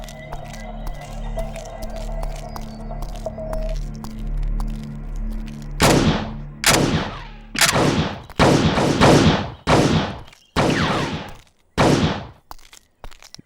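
Gunfire rings out at a Sri Lankan camp in an action film, a series of sharp, loud, echoing shots in an irregular volley after a quieter stretch of low ambient rumble.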